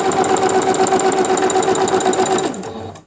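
A sewing machine stitches through a quilt in a steady, fast rhythmic whir close by, then slows and stops near the end.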